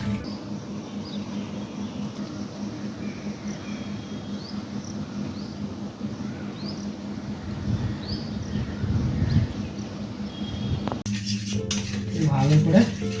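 Eggs being beaten in a bowl for egg toast: soft background hum and faint insect-like chirps give way near the end to a quick burst of rapid clinking whisks against the bowl, close and fairly loud.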